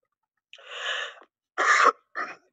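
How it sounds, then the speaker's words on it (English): Three separate coughs, fairly close, the first longer and rasping, the next two shorter and sharper, with brief silences between them. "cough."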